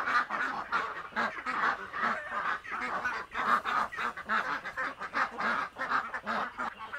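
Peking ducks on a Philippine duck and chicken farm, a flock quacking and honking in a dense, continuous chorus of repeated calls at close range.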